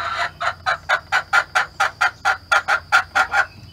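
An old hen in a chicken run clucks over and over in a steady, even rhythm, about a dozen close, loud calls with no other sounds.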